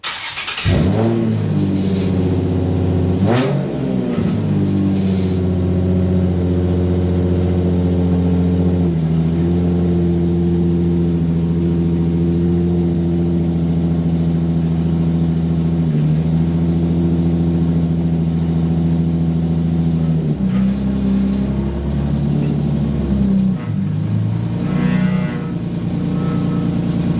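A Nissan 350Z with the HR engine idles and runs steadily after a clutch slave conversion, its loud, even exhaust note close by with a few brief blips and dips in revs.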